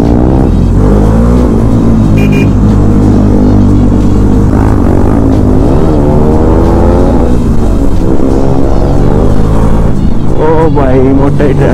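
A Kawasaki H2R motorcycle rides through city traffic during a street race, its engine loud and close, revving and shifting continuously over rushing wind noise, with people talking briefly over it.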